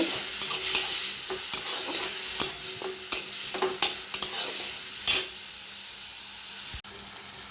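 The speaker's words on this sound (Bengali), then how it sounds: "এইভাবে একটু ভালো করে আমি ভেজে নেব।" Onion, tomato and garlic fry in a pan with a steady sizzle, broken by repeated scraping strokes of a stirring spoon, all close and with no talking.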